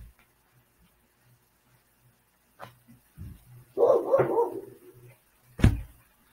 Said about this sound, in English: Yeah, I know that dog can be annoying.